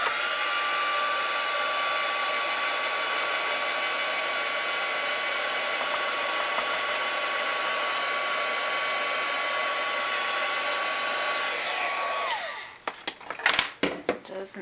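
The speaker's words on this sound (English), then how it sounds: "So I'm just going to give this a quick go over with the heat gun." A heat gun blows steadily over a card to dry the ink, a loud continuous whooshing hum with a faint tone that lasts over twelve seconds before clicking off amid a few handling knocks.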